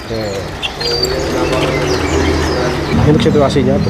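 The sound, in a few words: imported cage birds calling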